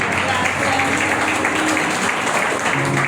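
Church congregation applauding in praise during a Spanish-language worship service, a loud continuous roar of clapping with a low hum and some voices mixed in underneath.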